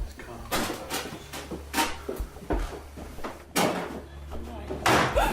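Bangs on a door at Somerleyton Hall, several sharp knocks or thumps spread through the clip, fairly close, mixed with people talking quietly nearby and some low room rumble.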